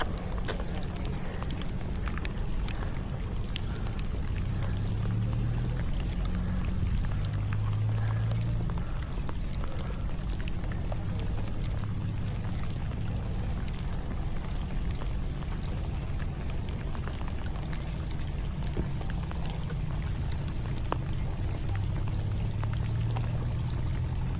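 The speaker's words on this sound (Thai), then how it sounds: "ฝน" Rain falls steadily over a fishing pond where barramundi are being caught in Thailand, a dense, even hiss with no gaps that lasts throughout, with no voices.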